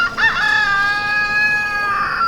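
A backyard rooster crows once in a long, close, loud cock-a-doodle-doo, with a clucking break near the start and a sustained ringing call that fades out.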